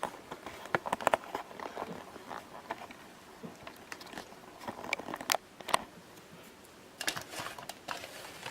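Homemade candy being bitten and chewed up close, with irregular crisp crunches that come in small clusters and scattered snaps over a quiet background.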